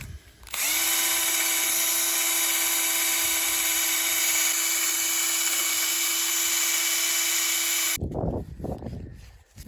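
A power drill fitted with a wire wheel cleans the EGR valve sealing surface on a 2015 Renault Master 2.3 dCi van, giving a loud, steady high-pitched whine for about seven seconds before it stops and spins down.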